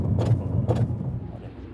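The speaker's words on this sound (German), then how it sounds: "Das Auto klackert vorne die ganze Zeit." A car's front end clacks and knocks from worn shock absorbers, giving two or three dull, close thumps over a steady low rumble of the vehicle.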